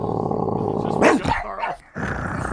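A dog growls and barks up close, a rough snarling burst followed by a short pause and more low rumbling.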